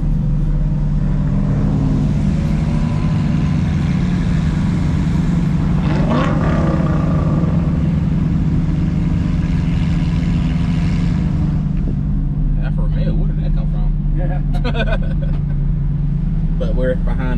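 A line of supercars including McLarens, Porsches and Lamborghinis rolls along a rainy Atlanta highway under police escort, with a V12 Lamborghini ahead. Loud, steady engine rumble and road noise run throughout, with a brief rise near the middle and some voices underneath.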